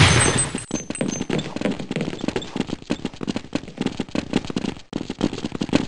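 A grenade explodes in Counter-Strike 1.6 with a heavy blast at the start, followed by a dense run of rapid, crackling gunfire that continues steadily to the end.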